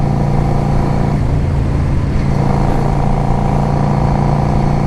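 A 2005 Yamaha V Star 650 motorcycle on a test ride, its engine giving a steady, loud, continuous drone mixed with wind rush for several seconds.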